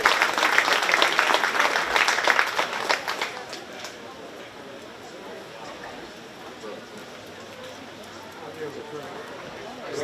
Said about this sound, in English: keep the rounds of applause coming for the young people as they head back to the barn.